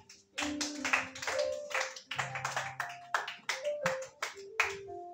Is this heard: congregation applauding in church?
yes